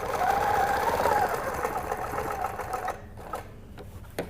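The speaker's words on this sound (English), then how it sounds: "Now we're ready to stitch around and come back around." A sewing machine stitching around a quilting template ruler, a close continuous whirring hum of rapid needle strokes that slows and stops near the end, followed by a few soft clicks.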